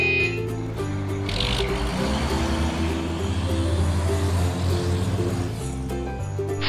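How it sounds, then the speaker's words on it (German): A truck rumbles closer in a wooden Brio toy quarry scene, a steady low engine drone with shifting tones lasting several seconds and no talking over it. "Hört ihr das? Da kommt ein Laster!"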